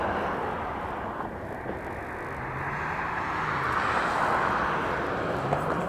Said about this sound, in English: Southwest 2079, maintain visual separation, winds calm, runway 1 right, clear for takeoff.